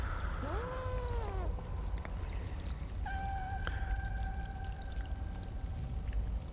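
Cats call out in the video game Stray, with a few rising and falling meows early on and a longer drawn-out cry midway, set against a constant rushing ambient background.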